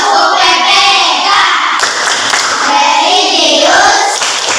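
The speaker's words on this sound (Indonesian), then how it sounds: "sekarang kita tepuk PPK yuk" Children in a classroom perform a rhythmic clapping chant together, loud close hand claps in a steady beat mixed with their voices.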